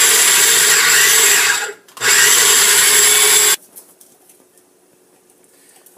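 An electric chopper whirs loudly, chopping celery, onions and peppers for a home-cooked trinity, in two bursts separated by a brief pause before cutting off into quiet.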